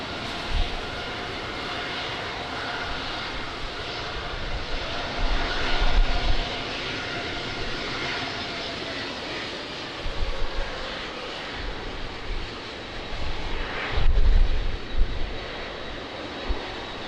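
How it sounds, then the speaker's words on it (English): Portuguese Air Force KC-390 transport aircraft approaching to land at Lisbon Airport in the rain, a broad continuous engine roar swelling and easing at a distance under the patter of rain. "So we will have the KC 390 Portuguese Air Force landing in a couple of minutes."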